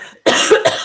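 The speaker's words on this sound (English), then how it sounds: "Oh, this thing makes me cough." A woman's coughs indoors, two loud close bursts after a brief quiet moment, the second shorter than the first.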